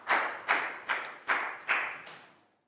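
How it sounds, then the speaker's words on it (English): A classroom of young primary pupils claps for a classmate in a short burst of applause, about five quick rhythmic swells that fade out, close and fairly quiet. "big round of applause for Pat."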